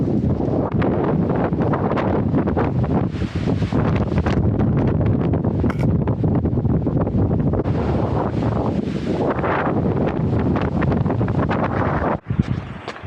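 Strong gusting wind buffeting the microphone on a snowy hiking trail at Grassi Lakes, a loud continuous roar that surges and fades, with a brief knock near the end.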